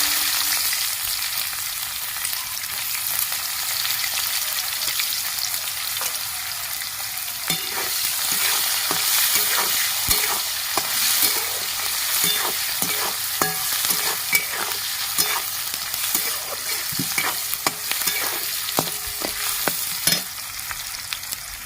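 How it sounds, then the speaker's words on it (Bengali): Chopped onions fry in a pan for egg pulao, a steady close sizzle running throughout while a spatula scrapes and stirs in irregular clicks and scrapes that grow busier in the second half. "পেঁয়াজ ভাজা হয়ে গেছে"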